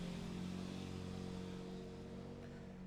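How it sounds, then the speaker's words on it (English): A neighbour's car engine idles and revs loudly nearby in a steady, droning rumble that barely changes for the whole stretch, fading slightly toward the end, with no one talking. "they will sit there revving their car sometimes for hours every day"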